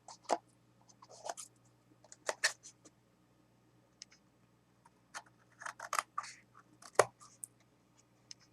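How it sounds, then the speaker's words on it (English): Scissors snip around overhanging paper on a handmade altered matchbox, giving close, crisp clusters of cuts in short bursts separated by quiet pauses. "I'm just cutting around anything that's overhanging."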